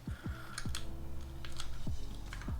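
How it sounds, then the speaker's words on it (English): Typing on a prototype Skog Bluetooth keyboard, a run of quiet, irregular key clicks and clacks close up, with no talking. "So now I'm typing."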